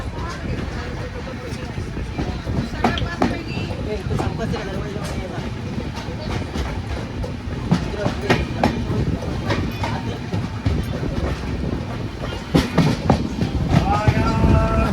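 A Konkan Railway train rolls through Adavali Road station with a loud, steady rumble and rhythmic clickety-clack of wheels over rail joints, heard close from on board, with a voice speaking over it at times.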